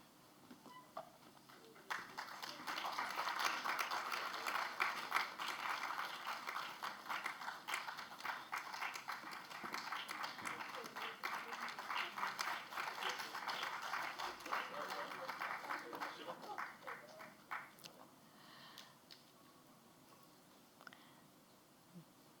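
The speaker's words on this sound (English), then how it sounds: "A huge round of applause for everybody, please." Sustained round of applause from a panel discussion audience, many hands clapping steadily at moderate distance for about fifteen seconds before thinning out and fading.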